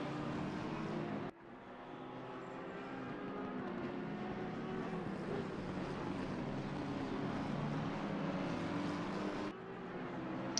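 Audi GT race car engine at Barcelona in Assetto Corsa Competizione, a sustained high-revving drone with shifting pitch as it accelerates, steady and moderately loud without talk.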